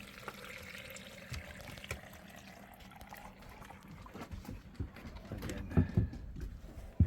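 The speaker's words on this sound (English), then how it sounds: "you pour some water in" Water is poured into a portable dog paw cleaner holding a little soap and shampoo, a soft, faint trickle and splash that grows louder with a few knocks near the end.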